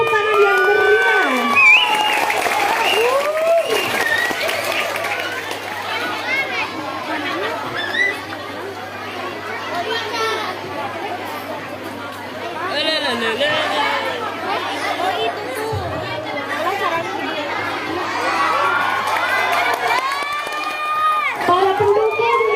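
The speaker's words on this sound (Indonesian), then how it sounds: "Beri tepuk tangan yang meriah." Crowd of children and adults at an Isra Mi'raj school event in Garut, Indonesia, cheering and clapping in a lively, continuous din full of high shouts and chatter, with a low hum running underneath.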